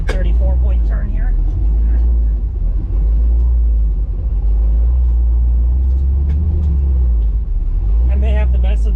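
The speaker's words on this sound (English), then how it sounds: "I may have to mess with the idle a little bit because it's surging quite a bit." 1967 Chevy Nova V8 with FiTech fuel injection idling with a deep, loud, steady rumble that surges unevenly, while someone talks over it.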